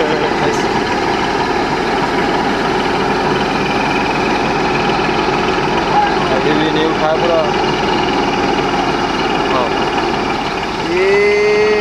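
A borewell drilling machine engine runs steadily, a loud continuous diesel drone with low rumble and vibration throughout, under faint background voices.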